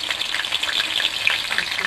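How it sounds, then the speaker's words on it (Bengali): Fish (bata, mrigal and rohu) frying in hot oil, with a steady, dense sizzle and crackle that continues without a break throughout. "তো এই মাছগুলোকে আমি আগে ভাজবো,"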